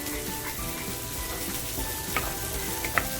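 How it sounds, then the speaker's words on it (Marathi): Water poured into hot oil and masala for an eggplant curry hisses and sizzles steadily in a pan, a continuous close frying crackle with a couple of sharper spits near the end. "आता याच्यामध्ये आहे पाणी टाकून"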